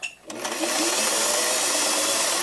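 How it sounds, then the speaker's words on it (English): A sewing machine stitching lace trim toward a mitered corner, starting after a brief pause and then running steadily and fast with a continuous close whirring hum. "We want to sew this all the way up to that exact corner."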